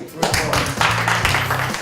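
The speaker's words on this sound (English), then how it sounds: "Clap for him" Children clap for a classmate in a schoolroom in Uganda, a few loose bursts of applause mixed in with an adult voice talking over them.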